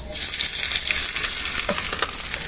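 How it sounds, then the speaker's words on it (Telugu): Nalleru (Cissus quadrangularis) stems fry in hot oil in a kadai, giving a loud, steady sizzle with bubbling crackle throughout and no talking. "ఇవి వేసేసుకొని మంచిగా ఫ్రై చేసుకున్నాము"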